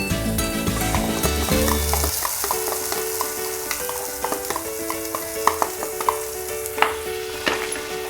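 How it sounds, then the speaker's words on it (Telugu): Spicy potato Manchurian sizzling hard on high flame with masala and yogurt mix, frying steadily with intermittent stirring and scraping clicks from a spoon against the pan, fairly close and loud with no talking. "హై ఫ్లేమ్లోనే వేపుకోవాలండి"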